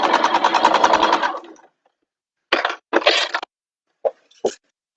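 A sewing machine stitches down the middle of a fabric bag, a fast buzzing run for over a second, then silence and several short stop-start bursts as the pedal is pressed.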